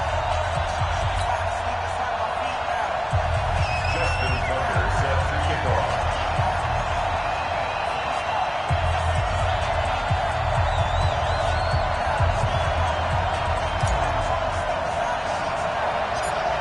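Stadium crowd in an EA Sports NFL football video game at a Baltimore Ravens home game against the Arizona Cardinals, a steady loud roar with cheering swells running throughout.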